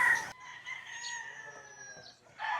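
Roosters crow amid clucking chickens at a large poultry farm in San Rafael, Bulacan; one long crow runs through the middle, with more birds calling at the start and end, fairly close and fairly loud.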